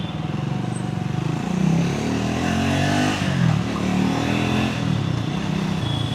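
A 2026 Triumph Scrambler 400X motorcycle engine pulls hard under acceleration, a loud, steady, throbbing exhaust note that swells around the middle of the ride and holds close and continuous throughout.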